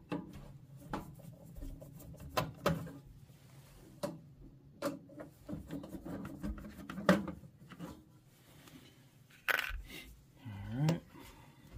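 Screws are being removed from the back of a Sony SCD-CE775 five-disc CD player, with faint scattered clicks, small metallic taps and scraping of a screwdriver close by, in a quiet room.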